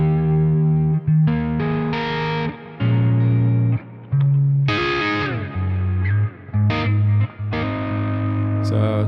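Distorted electric guitar played through a dual Kraken amp rig with impulse responses, compression, EQ, delay and reverb, heard as loud sustained chords and riffs with brief gaps, no voices.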